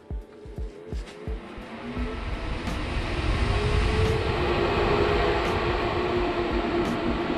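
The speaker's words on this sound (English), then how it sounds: "the speed controller for the radiator fans that I have set up here" Radiator fans on a USB speed controller in a tiny portable solar ice hut cabin: a few soft clicks, then a broad whooshing hum that swells and stays loud and steady, with no talking.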